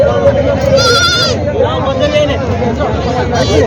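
Sheep and goats bleat in wavering cries over a dense crowd hubbub at a goat and sheep market in Vasmat, with constant chatter of traders and buyers beneath the calls.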